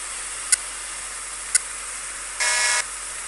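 Two short sharp beeps followed by a longer buzzing horn blast, over a steady background hiss.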